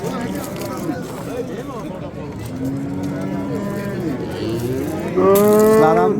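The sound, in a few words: cow mooing at livestock market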